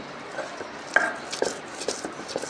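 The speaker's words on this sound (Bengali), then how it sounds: "আবার আদা রসুন এগুলা বাটাবাটি করতেছি" Ginger and garlic are pounded into paste by hand, giving irregular sharp knocks and grinding taps, close and fairly light, with no talking.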